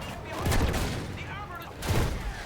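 Gunfire in the video game Battlefield 1, muffled bursts of shots and booms rising twice over a rumbling battlefield background, with a player's voice faintly mixed in.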